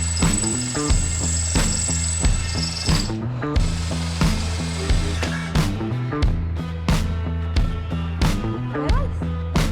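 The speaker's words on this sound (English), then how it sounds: "So if you just drill that hole there now" Power drill boring a hole during a bike shed build, with repeated short bursts of whirring, stopping and restarting over several seconds, fairly close and moderately loud.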